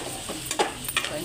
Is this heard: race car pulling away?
no